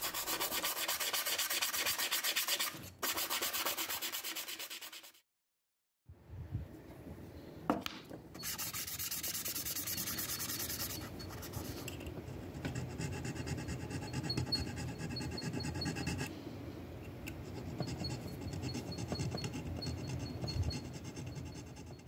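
A handmade brass nut for a Rickenbacker 4001 bass is filed and sanded into shape, heard as close, rhythmic scraping and rubbing strokes, broken by a short silence and then resuming more softly with steady rasping.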